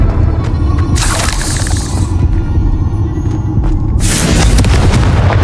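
Two loud, booming blasts from the Confringo fire spell in Hogwarts Legacy, each a sharp crack swelling into a rumbling roar over continuous heavy background noise.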